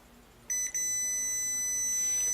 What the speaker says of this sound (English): So if I was to put my probes across this, I should be able to hear a beep.